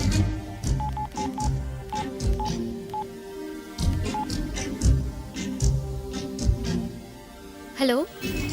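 Telephone keypad dialing tones beep in a quick irregular series of short pulses, fairly close, with a voice talking over parts of it and a brief rising electronic tone near the end.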